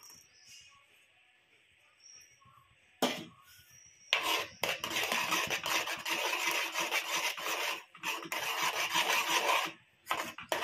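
Melted homemade soap mixed with homemade aloe vera gel is stirred in a pot, giving close, repeated scraping and rubbing strokes that start after a quiet opening and run on with brief pauses.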